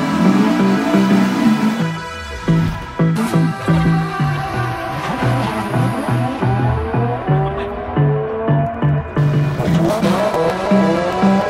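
A Honda CRX engine running loud and close with leaking headers, a throbbing exhaust drone with rapid puffing pulses that rise and fall in pitch as it revs.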